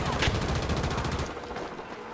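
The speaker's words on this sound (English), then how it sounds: "Of course they're shooting." Rapid gunfire in the shooter Battlefield 2042 on a Conquest match, dense overlapping bursts close by for over a second before dropping to a quieter, more distant crackle.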